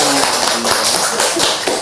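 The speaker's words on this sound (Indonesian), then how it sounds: "Tepuk tangan" Applause from a business podcast studio audience, a dense steady patter of hand claps that is loud and close and runs evenly for about two seconds with no talking over it.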